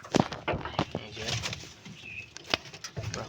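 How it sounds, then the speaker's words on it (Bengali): A pigeon coos softly nearby in a quiet setting, with faint scattered bird sounds and light rustling around it. "দেখি একটা কবুতর আইছে"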